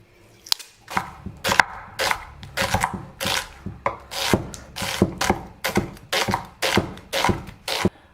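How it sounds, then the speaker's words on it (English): A kitchen knife chops onions on a cutting board in steady, fairly quick strokes, roughly a dozen crisp close-up chops with short pauses between them, and nobody speaks. "All of my onions are chopped"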